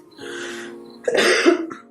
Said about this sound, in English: on day 12, I'm still coughing